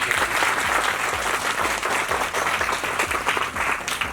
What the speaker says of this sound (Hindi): आपके लिए कितनी है उतनी ही जोरदार तालियां चाहिए आपके।